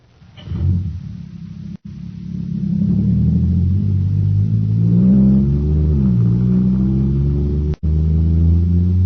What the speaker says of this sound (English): Wow, this jet cycle is supercharged now.